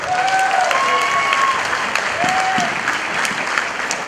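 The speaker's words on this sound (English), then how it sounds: "big round of applause for the bride and groom" A wedding reception crowd applauds the bride and groom with steady, dense clapping that holds for several seconds at close range, with no talk over it.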